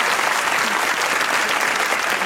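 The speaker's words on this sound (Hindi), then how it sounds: "मैडम डेजी के लिए तालियां होनी चाहिए।" A studio audience on a Pakistani comedy talk show claps in steady, dense applause that holds at an even loud level throughout, with no distinct voices over it.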